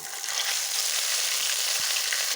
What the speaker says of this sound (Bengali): তেলটা গরম হয়ে গেছে, একটা একটা করে এর মধ্যে পাতুরিগুলো দিয়ে দেবো।